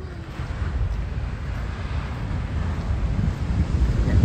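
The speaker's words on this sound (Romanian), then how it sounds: "Deci este incredibil ce valuri sunt." Large ocean waves break on a beach under strong wind, a continuous rushing roar with gusty buffeting that grows louder toward the end.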